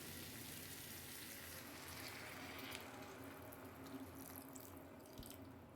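Hot water is poured into a pan of spiced potatoes for aloo dum, giving a steady, fairly faint rushing splash with a soft sizzle underneath and no voices.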